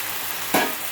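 Chicken frying in a pan, a continuous sizzle with one brief stirring scrape.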